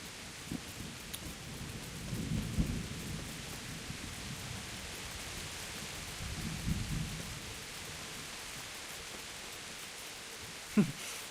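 A thunderstorm in the video game Kingdom Come: Deliverance, with steady, soft rain hissing throughout, low rumbles of thunder rolling in twice, and a sharper crack near the end.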